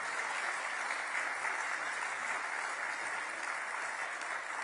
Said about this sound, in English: Sir, give it applause.